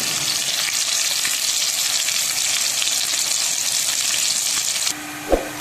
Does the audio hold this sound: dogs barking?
no